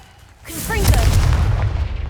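Confringo blasting spell in the Hogwarts Legacy video game, a heavy booming blast rising after a short quiet start, with sustained rumble and crackle and a voice calling out over it.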